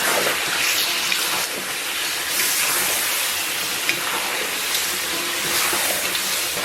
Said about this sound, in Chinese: 然后把提前准备好的料汁下到锅中